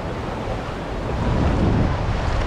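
Sea waves washing ashore at a sunny beach at Boraceia on the north coast of São Paulo state, heard as a steady broadband surf roar that swells slightly toward the end, with wind buffeting the microphone and no talk.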